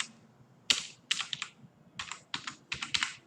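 A computer keyboard gets typed on in short clustered bursts, with crisp close key clacks separated by brief pauses and no voices.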